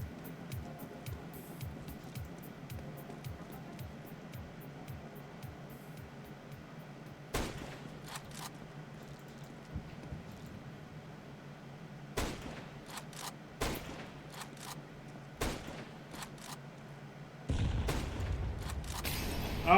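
Sniper rifle shots in a video game: a handful of sharp, isolated cracks spaced seconds apart over a low steady rumble, with a louder burst of noise near the end.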